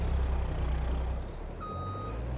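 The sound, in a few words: truck Jake brake in Farming Simulator 22 video game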